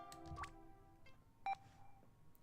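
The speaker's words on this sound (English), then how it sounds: "But I recognize the beep" A default RPG Maker game-jam game gives out short electronic beeps, a few clean tonal blips over a faint background of game music, quiet and close.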